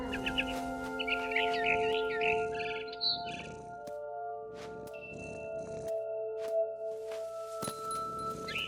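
Bird chirps from a frightened barn swallow in the game What Remains of Edith Finch, bright short calls scattered over a steady tonal game soundscape, fairly close and moderately loud.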